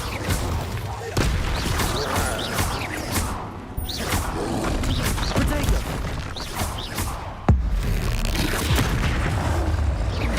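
Repeated booming spell blasts and crashing impacts in a troll fight in Hogwarts Legacy, dense and loud with sharp bursts, while a voice talks over the action.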